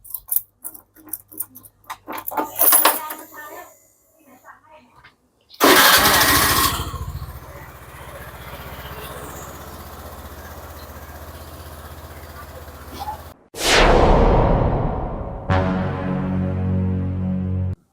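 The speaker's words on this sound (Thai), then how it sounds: "เดี๋ยวเรามาสตาร์ทเครื่อง อุ่นเครื่องกันดีกว่านะ" A motorcycle engine cranks and fires up after an oil change, then settles into a steady idle to warm up, with a second start and revving near the end; loud and close, with no talk over it.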